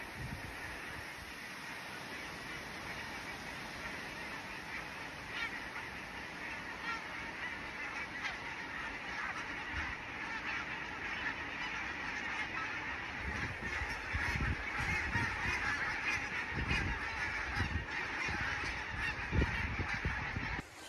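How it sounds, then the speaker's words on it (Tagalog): Wild geese honking steadily through a woodland setting, a continuous chorus of calls at moderate distance with wind noise underneath, growing slightly louder toward the end. "Yung mga ducks, mga gansa, na sila, babalik na yan sila sa place kung saan sila galing."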